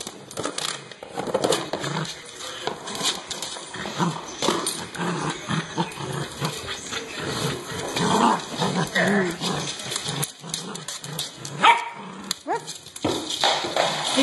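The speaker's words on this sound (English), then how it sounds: "He barks" A corgi barks sharply and repeatedly in short bursts, close by, over a busy backdrop of movement and faint voices during outdoor frisbee play.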